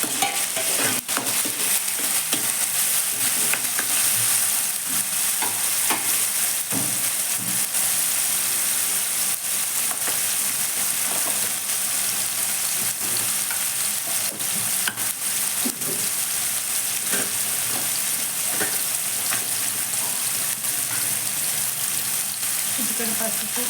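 Onions fry in hot oil in a pan, a steady bright sizzle with frequent scraping clicks of a spoon stirring, continuous and close throughout.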